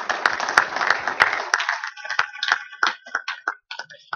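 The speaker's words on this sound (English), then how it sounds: "stand up and be recognized for a round of applause" A round of applause for panel members standing to be recognized at a drone technology event, steady dense clapping for about two seconds that thins into scattered individual claps before fading out.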